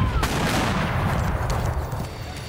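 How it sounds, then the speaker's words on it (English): Rolling battle gunfire and cannon roar from a Mexican War (1846-1848) battle scene at Palo Alto, a dense, continuous rumble of booms and shots with no pauses, loud throughout and no talk. "The Battle of Palo Alto began with the roar of cannon fire and quickly turned into an artillery duel."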